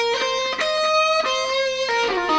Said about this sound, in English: this is less than that, like just a quarter bend.